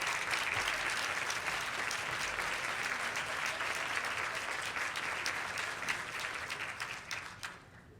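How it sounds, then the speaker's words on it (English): Sustained audience applause at a women's history month luncheon honoring award winners, a steady dense wash of clapping from a crowded room that carries on evenly, then thins and fades out near the end. "Can we give another round of applause for our 2026 Women Achievement Award winners?"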